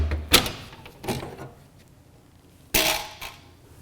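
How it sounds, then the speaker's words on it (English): Access door coming off a Honeywell furnace air cleaner with a PopUP filter: three separate clunks and knocks of panel handling, with quiet pauses between them. "Now we'll remove the door."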